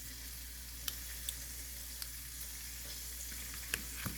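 Chicken pieces frying in a modest amount of olive oil in a pan hiss in a continuous, even sizzle, broken by a few small sharp pops and clicks. No one speaks.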